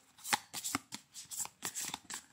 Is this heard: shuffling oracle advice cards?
yes